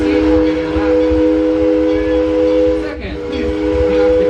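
An amusement park train ride at Six Flags Over Texas rumbles along with a steady low mechanical roll and sustained tonal hum, a brief whooshing dip midway, and background voices mixed in.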